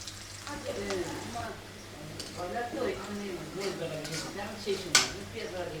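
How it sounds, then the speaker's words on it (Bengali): Onions fry with chicken gizzard and liver in a pan, a soft continuous sizzle with occasional stirring and utensil clinks, under someone talking steadily nearby. "আর এখানে ভেজে নিচ্ছি পেঁয়াজ, পেঁয়াজের পরিমাণটা একটু বেশি দিয়ে দিছি"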